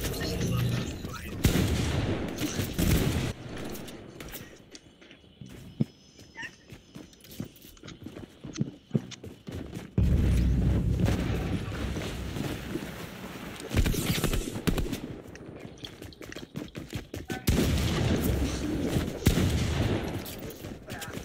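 Gunfire crackles through a fight in Fortnite, dense bursts of rapid shots and booms that come in waves, loud and close, with no speech over it.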